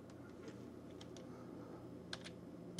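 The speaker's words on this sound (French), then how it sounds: "Et là-dedans, on va taper OOBE" A computer keyboard tapped while entering a command in a Windows 11 setup console; a handful of light, quiet keystrokes come in small bursts against a faint background hum, with no voices.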